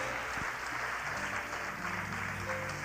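Faint, distant applause from a church congregation, a steady wash of clapping without pauses.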